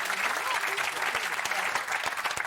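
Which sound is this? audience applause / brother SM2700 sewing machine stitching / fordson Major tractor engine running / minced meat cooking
audience applause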